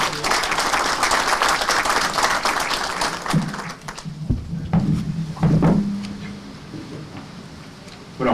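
Audience applause for a speaker at a legal conference on the new criminal procedure code: dense clapping for about three seconds, then scattered claps and bumps fading out before a brief swell near the end.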